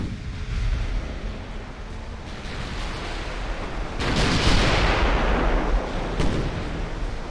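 Naval shells falling in an Ultimate Admiral Dreadnoughts battle, a continuous rumbling barrage of gunfire and impacts with a sharp burst around four seconds and another near six, moderately loud and dense without speech.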